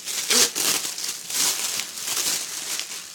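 Thin orange tissue paper crinkles and rustles in close, bursty handfuls as a small plastic pouch is unwrapped, with steady crackling throughout and no voices.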